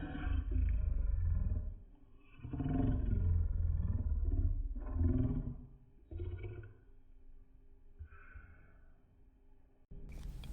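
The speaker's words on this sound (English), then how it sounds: "That slow motion got it sounding like lions and tigers up in here growling." Slowed-down audio of someone eating oxtails at a soul food restaurant, turned into long deep growls like lions and tigers, loud and rumbling in several drawn-out waves with short pauses between.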